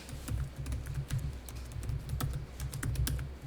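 Steady, quick clicking of keys on a computer keyboard during accounting data entry, close and fairly quiet, with irregular rhythm and no talking.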